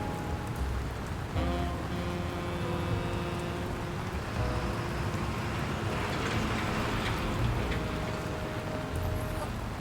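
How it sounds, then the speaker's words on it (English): Raindrops patter on an umbrella amid steady rainfall, a continuous soft hiss with faint tonal hums drifting through the background and no one speaking. "and the raindrops on your umbrella."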